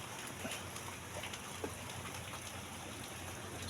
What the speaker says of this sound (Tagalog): biglang umulan napasilong tayo sa kadamuhan